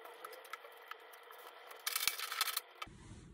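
Tarot de Marseille cards being shuffled and covered by hand on a table, with soft light card ticks and rustles, then a brief burst of brisker sliding and flicking before the handling settles.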